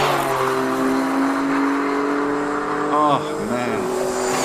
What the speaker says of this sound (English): One of the Porsches, just listen to that.